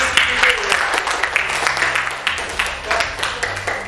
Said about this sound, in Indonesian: Tepuk tangan dulu kepada Mas.